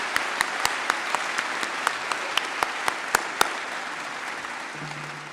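Scattered applause at a commencement ceremony, with sparse, sharp individual claps spread over a quiet hall, fairly distant and thinning out toward the end.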